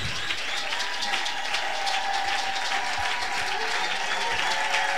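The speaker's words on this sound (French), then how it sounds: "Je disais, nous acclamons le Seigneur." A worship congregation applauds to acclaim the Lord, a dense, steady wall of clapping from a large crowd that holds evenly throughout with no pauses, with faint cheers mixed in.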